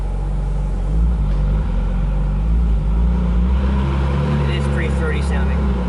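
A Ferrari 458 Italia on a road test drive, its engine a deep, steady rumble heard from inside the car as the throttle is gently applied, with people talking over it.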